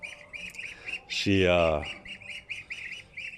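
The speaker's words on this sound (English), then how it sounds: "That's my wife's mom's duck" Farm ducks raised by a woman in rural Vietnam quack in a steady, repeated chorus, with one loud drawn-out squawk rising in the middle and a brief word of speech.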